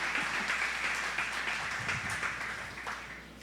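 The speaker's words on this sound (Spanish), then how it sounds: "Can you give God a loud round of applause?" A church congregation applauds during a Spanish-language sermon: a steady wash of many hands clapping at once, fairly soft and distant, holding evenly before tapering slightly.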